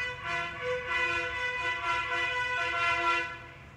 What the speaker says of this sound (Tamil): இவங்க எதுக்கு தான் இவ்வளோ ஹார்ன் அடிக்கணும்னே தெரில